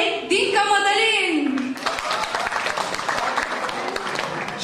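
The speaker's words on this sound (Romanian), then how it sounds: "Aplauze, vă rog!" Audience applause at an event breaks out after a voice on a loudspeaker announces a name, dense clapping lasting several seconds.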